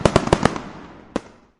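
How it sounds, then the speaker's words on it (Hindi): Diwali firecrackers burst in a quick run of four sharp cracks, then one louder bang and a final faint pop, each echoing briefly in open night air. "आसमान रंग बिरंगी रोशनी और पटाखों की आवाज से गूंज रहा था।"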